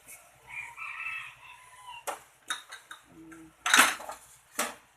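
Metal utensils scrape and clink against a cooking pot in a household kitchen as ingredients are stirred, with sharp clatters standing out among soft rustles and a rooster crowing faintly in the background.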